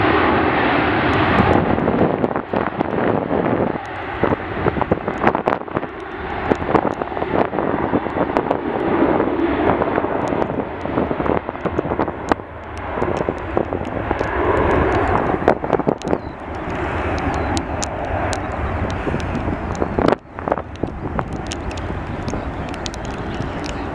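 An airliner takes off at Manchester Airport, a loud, broad engine roar holding steady throughout with gusts of wind buffeting the microphone and no speech.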